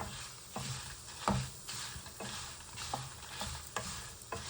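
Brinjal pieces frying in oil in a pan on low flame for sambar, a soft steady sizzle with occasional stirring clicks and scrapes, fairly quiet and without talk.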